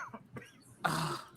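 A person gives a few soft, raspy throat-clearing coughs, followed by a louder, breathy hack at close range in a quiet indoor setting while smoking.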